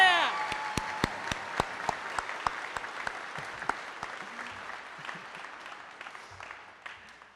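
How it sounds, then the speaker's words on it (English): Applause at the Bucks County Community College 2022 commencement: sharp individual claps stand out at first, then thin and fade into a softer crowd patter with faint background voices. "Let's give them a round of applause"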